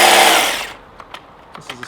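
Husqvarna commercial battery hedge trimmer running at close range, a loud steady whir that cuts off after about half a second, then a few faint clicks and ticks.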